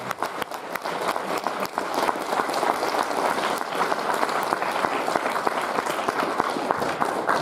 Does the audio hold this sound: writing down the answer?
no